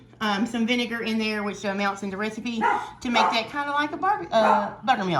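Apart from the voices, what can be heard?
dog barking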